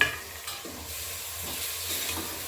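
Yogurt and a handful of mint leaves sauté in a pan for Vellore chicken biryani, giving a faint, steady, soft sizzle with a light stirring scrape near the start and no speech.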